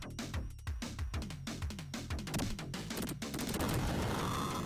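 Rapid bursts of video game gunfire from Alien 3 on the Sega Mega Drive, a dense run of sharp repeated shots over game music and effects, steady and loud with no talking.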